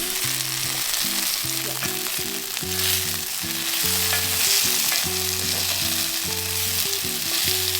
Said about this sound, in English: More olive oil, and there goes in our tomatoes